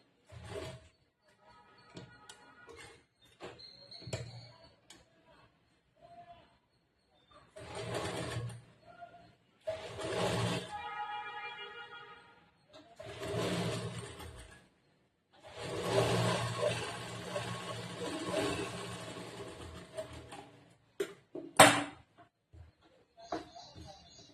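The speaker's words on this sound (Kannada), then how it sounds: "ಈ ತರ ಇವಾಗ ಈ ಕಡೆ ಸೈಡ್ ಸ್ಟಿಚ್ ಮಾಡ್ತೀನಿ." Sewing machine stitching the side part of a blouse, in short bursts of mechanical whirring separated by pauses, fairly close and moderately loud, with a voice heard faintly between runs.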